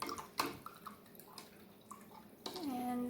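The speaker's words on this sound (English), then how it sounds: "Gonna rinse my brush out" A paint brush is swished and rinsed in a container of water, giving quiet, close splashing and dripping that ends in a brief rising trickle.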